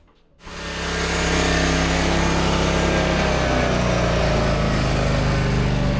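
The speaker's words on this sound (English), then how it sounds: "we're gonna get ready to take this lawnmower outside, fire it up, run it" A repaired lawn mower engine starts and then runs at a steady loud drone, a continuous close mechanical roar with no voices.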